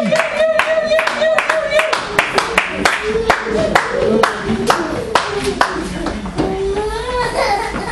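A church congregation claps in a steady, rhythmic beat, loud and close, while a voice sings or calls out over the clapping.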